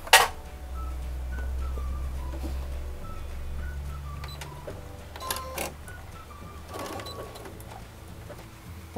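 Sewing machine stitching a seam through patchwork fabric for a small quilted piece, a steady mechanical whir running for several seconds with a brief stop-and-restart for the backstitch, close and fairly quiet.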